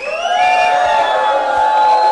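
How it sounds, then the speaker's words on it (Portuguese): A crowd at a public hearing in Diadema over a municipal bus fare increase boos loudly, a sustained, droning chorus of voices that holds steady and close throughout. "E agora uma vaia para essas pessoas que nos compareceram aqui hoje"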